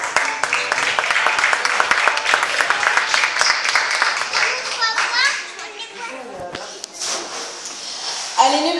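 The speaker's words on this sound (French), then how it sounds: "On peut l'applaudir une dernière fois" An aquarium audience at a sea animal show, with many children, applauds a performing animal named Claudia; dense clapping and excited kids' voices fill the space, then thin out near the end.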